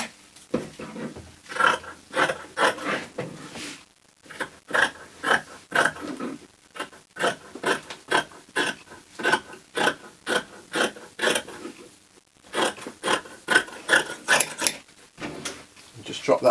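Scissors trimming cloth around a collar as it is made: a long run of rhythmic crisp snips in quick bursts, broken by short pauses, heard close and alone.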